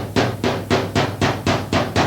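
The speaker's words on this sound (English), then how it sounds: "you need to get a hammer and lightly tap" A hammer lightly taps dented car body metal during bodywork repair, eight quick, evenly spaced metallic taps, close and fairly loud with no talk.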